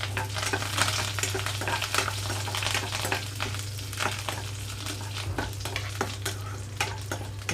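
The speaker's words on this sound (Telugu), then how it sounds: "చూడండి తాలింపు గింజలన్నీ వేగిపోయాయి" Tempering seeds and curry leaves frying in hot oil in a pan for a ridge gourd curry, a continuous crackling sizzle with frequent sharp pops and stirring scrapes over a low steady hum.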